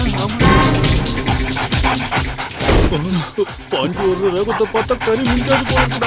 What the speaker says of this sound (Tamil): நாய் குறைக்கிற சத்தம் கேக்குதுடா